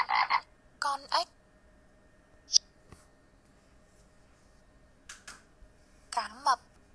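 Frog croaks from a children's animal-learning game, heard as several short, bright croaking bursts separated by quiet gaps, with faint voice-like sounds in between.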